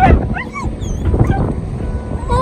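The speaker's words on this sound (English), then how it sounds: "Oh, it's a beautiful dog." A German Shepherd or Giant Alaskan Malamute whimpers with thin, high, wavering whines over steady beach surf and wind, fairly close and broken into several short cries.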